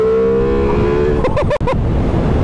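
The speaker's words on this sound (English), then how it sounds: "that's a second gear, third gear, fourth gear wheelie on the Multistrada." Ducati Multistrada V4 Rally motorcycle accelerating hard through second, third and fourth gear in a wheelie, a loud close engine roar rising in pitch with quick gear-shift breaks.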